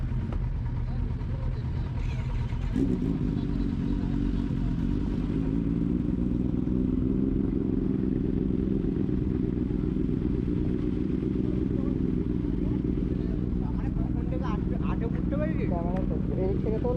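Superbike engines, among them BMW S1000R machines lined up on a Sunday group ride, rev with a loud, sustained low roar that swells after a few seconds and holds steady, with voices mixed in.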